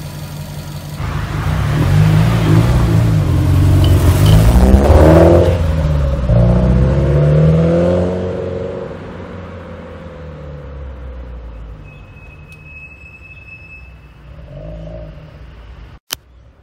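A Subaru WRX STI VAB fitted with an HKS dry carbon suction kit revs hard at close range, a loud engine roar that rises and falls before settling into a quieter idle.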